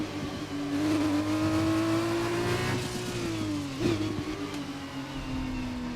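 Formula One car engines in the F1 2021 video game, qualifying in Barcelona, whine at a high, shifting pitch, rising and dipping as gears change, loud and continuous with no talking.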